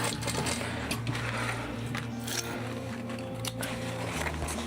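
A sewing machine backstitches the butterflied seams of a floral dinosaur water bottle bag, giving a continuous close mechanical whirr with a steady hum and slight changes in pace, and no voices.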